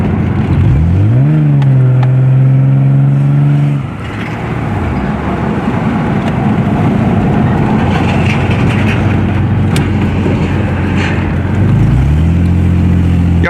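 1991 Nissan 300ZX 2x2 driving on a road, engine note rising briefly then settling into a low steady drone with road and wind rumble, heard from inside the car, later picking up revs again.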